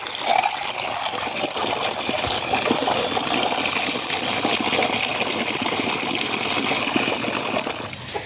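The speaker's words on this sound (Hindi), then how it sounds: "अभी मैं इनका बाउल धो के उसमें पानी भरूँगी" Water gushes steadily into a chicken's drinking bowl on a rooftop coop as it is rinsed and filled, a continuous close splashing flow with no speech.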